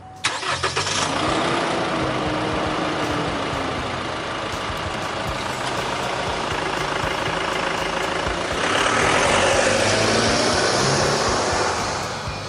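A 2017 GMC Canyon Duramax diesel pickup cranks and starts, then runs at a steady loud idle before revving up a little near the end, heard close with no talk.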